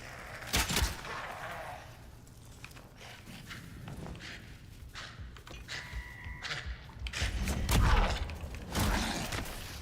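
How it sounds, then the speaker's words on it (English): Rapid gunfire from the video game Atomfall, with sharp bursts and thuds scattered through a busy, loud mix of combat sounds and clatter. "Man, that gunfire sure is distracting."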